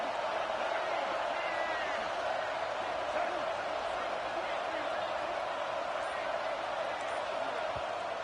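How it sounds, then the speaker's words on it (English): Stadium crowd roaring in a college football video game as the defense faces a third-and-goal red zone stand, a dense, loud, steady wash of crowd noise with scattered thumps. "And here comes the noise. This crowd is trying to inspire this defense to make a big red zone stop."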